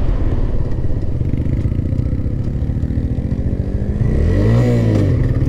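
A TVS Raider 125 motorcycle engine drones loudly and steadily as it pulls through the gears, its pitch climbing and then dropping with a shift near the end, heard alone and close up.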